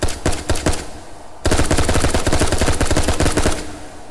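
A gun fires in the video game H3VR: a few single shots, a short pause, then a loud, rapid automatic burst of sharp cracks held for over two seconds.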